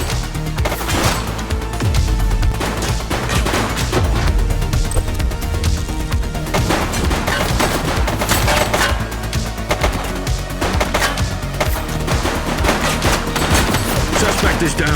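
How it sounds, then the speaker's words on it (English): Heavy gunfire fills a police shootout in the video game The Precinct: dense, rapid bursts of shots come one after another, loud and continuous, with a few voices shouting underneath. "Shots fired!"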